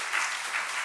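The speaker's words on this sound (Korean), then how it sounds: "박수 좀 쳐주세요." Congregation clapping in a church, a brief burst of applause from the room, fairly loud and dense, lasting under a second.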